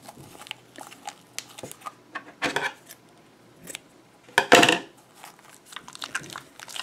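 Scissors snipping into a squishy mesh-covered slime ball, a few quiet crisp clicks and squelchy cuts at irregular intervals, close and soft with no talk.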